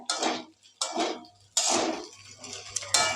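Pasta with egg, black pepper and spices is tossed in a pan with a utensil: four distinct scraping, clattering strokes of metal against the pan in an uneven rhythm, close and moderately loud, with quiet gaps between them.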